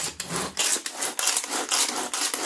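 Pull-start cord on a Tupperware pressure cooker yanked repeatedly like a lawnmower starter, giving a run of close, loud rasping zips with short gaps between pulls.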